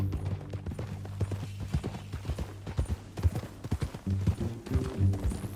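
Horse hooves clip-clopping at a riding pace in Red Dead Redemption II, a steady rhythmic clatter of close, moderately loud hoofbeats with occasional tack jingles.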